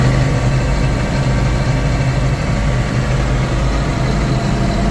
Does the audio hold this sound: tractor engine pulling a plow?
yes